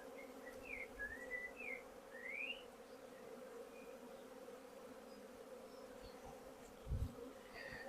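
Honeybees hum steadily inside an opened hive while a beekeeper works the frames to make a walk-away split. The drone is continuous and close, with a few birds chirping faintly in the background and one brief low thump.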